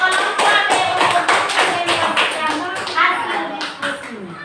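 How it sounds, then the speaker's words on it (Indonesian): Applause for group B in a school classroom: a group of people clap steadily and fairly loudly, with dense, overlapping hand claps that fill the whole moment before slowly thinning out. "kita beri dulu tepuk tangan untuk kelompok B"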